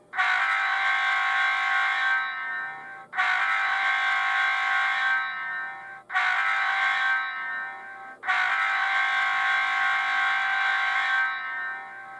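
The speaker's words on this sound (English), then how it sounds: "And then here is the K5HL horn." Horn blasts from a K5HL locomotive horn on an Atlas U23B model train in CSX livery, sounding four loud sustained chime blasts with short breaks between them, each held steady before cutting off, heard clearly and alone.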